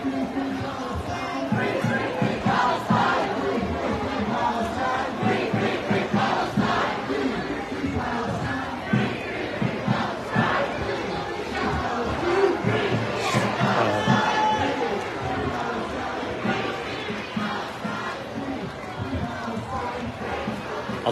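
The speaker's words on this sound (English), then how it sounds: "the crowd is not diminishing" A large crowd at a Palestine support rally outside the Providence state house chants and cheers continuously, a dense roar of many voices with rhythmic shouted bursts throughout.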